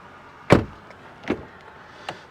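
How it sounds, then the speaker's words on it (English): A 2024 Alfa Romeo Tonale car door shuts with one loud, solid thud near the start, then two fainter clunks follow about a second apart, close by with no talking. "Now let's do a quick door sound check"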